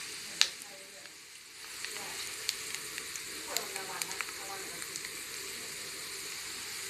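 Black squid frying in oil over low heat, a steady soft sizzle with light crackles and a few pops, close and moderately quiet, with brief clinks of a utensil and no talk.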